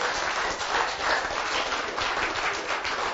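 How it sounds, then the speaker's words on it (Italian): Audience applause at a youth cycling race event in Italy, a dense, steady wash of clapping filling the whole stretch at moderate loudness with no voices over it. "Fategli un applauso."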